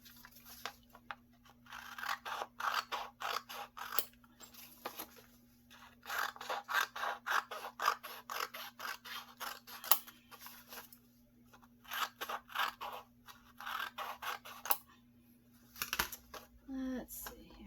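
Scissors cut a tab off the top of a large paper envelope in repeated runs of quick snipping, paper crunching and rustling between bursts, close and fairly quiet with short pauses.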